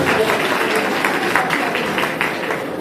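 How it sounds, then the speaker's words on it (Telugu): Guests at a Christian wedding clap steadily right after the couple is pronounced husband and wife, a dense, fairly near round of applause with a voice faintly mixed in. "చప్పట్లు కొడుతున్నాను దయచేసి."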